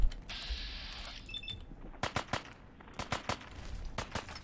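Gunfire in the Fallout 4 video game: a hiss at first, then several sharp bursts of rapid shots in quick clusters, moderately loud, with no talk.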